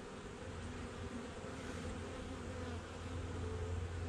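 Honeybees buzz steadily at close range during an early December hive inspection, a dense continuous drone that holds at even loudness throughout with no talk over it.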